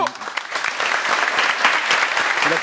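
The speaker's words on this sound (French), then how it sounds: "je vous demande aussi d'applaudir l'équipe de Show." An audience at a gaming tournament final applauds a team with steady, dense clapping, loud and sustained throughout, with faint crowd noise mixed in.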